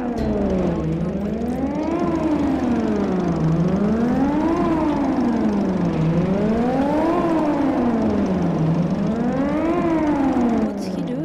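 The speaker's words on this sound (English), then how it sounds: "I heard this siren from my apartment in Bright City every once in a while." A rising and falling civil-defense-style siren in the video game Titan Chaser wails loud and steady in repeated slow sweeps, with a low engine-like drone beneath it.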